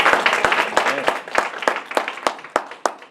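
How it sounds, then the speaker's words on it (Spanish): Sparse, scattered clapping from a small church congregation, a handful of distinct claps spaced irregularly over a few seconds with faint murmuring voices in the background. "Denle un aplauso, si usted quiere."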